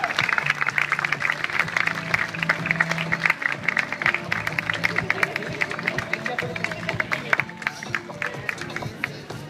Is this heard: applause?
yes